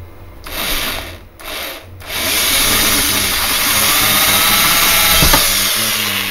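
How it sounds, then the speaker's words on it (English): Power drill fitted with a small 4mm bit boring into an interior panel of a Chrysler Voyager/Dodge Caravan, with two short bursts and then a sustained loud whirring grind, no talking. "I'm going to be using a very small drill bit. Only a 4mm drill bit"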